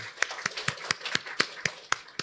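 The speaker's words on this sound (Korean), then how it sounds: "하나님께 영광의 박수를 드리겠습니다" A church congregation claps in unison during a Sunday service, about nine sharp, evenly spaced claps in a steady rhythm, fairly close and clear.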